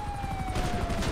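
Gunshots in the video game GTA V: a quick, close burst of rapid shots lasting about a second, with a siren-like tone wailing underneath.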